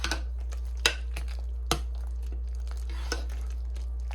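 A spoon stirs apple butter in a crock pot, with scraping and a few sharp knocks against the ceramic crock over a steady low electrical hum, close up and with no voices.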